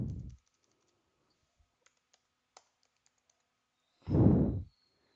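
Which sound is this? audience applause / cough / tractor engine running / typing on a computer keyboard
typing on a computer keyboard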